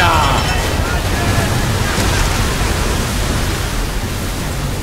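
Ocean waves wash and surge continuously in a naval battle from the game Assassin's Creed 3, a loud, broad rushing surf sound that stays steady throughout.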